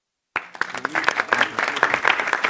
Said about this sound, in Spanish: mientras los que estamos presentes aplaudimos este diccionario